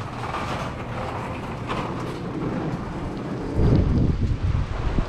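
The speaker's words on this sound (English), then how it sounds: "Whew, it's a little windy." Steady wind rushing and buffeting a microphone, with a louder low rumbling gust near the end; no talking.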